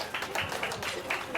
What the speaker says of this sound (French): Bon, applaudissez pour Commando Moustique, s'il vous plaît.